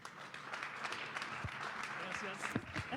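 Audience applause for pastor Alejandro Marín after a talk on God as the origin of truth, a steady crowd of clapping hands lasting the whole moment with a few louder claps near the end, mixed with faint voices.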